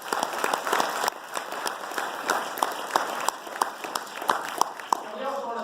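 Audience applause for debate candidates fills the room with dense, sustained clapping from a sizable crowd, steady and fairly loud throughout.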